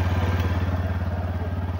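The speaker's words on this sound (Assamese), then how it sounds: "এই চক পূৰা বাইক ষ্টাৰ্ট দিছে বৰ্তমান। বাইক ষ্টাৰ্ট চাউণ্ড শুনক।" A motorcycle given as a first prize at a fishing competition runs close by after starting, with an even, rapid putter and a faint clatter, and nobody speaks.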